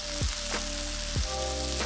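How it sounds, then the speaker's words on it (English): Chicken breast frying in plenty of oil on a hot Steelmade flat top, a loud, continuous crackling sizzle close by, with a few low swooping hums running underneath. "we've got a high heat with a lot of oil because we're essentially frying on the flat top"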